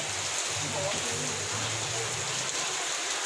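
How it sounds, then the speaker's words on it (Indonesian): Light drizzle falling at home, a steady soft patter and hiss of rain on surfaces, continuous and fairly close with no voices. "hujan gerimis"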